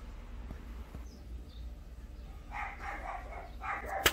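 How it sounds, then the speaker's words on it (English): Schnauzer dogs bark in short, yappy bursts from another room, faint at first and then clustering in a couple of quick volleys near the end over a low background hum. "As good a dog as you could hope to have, but they are yappy."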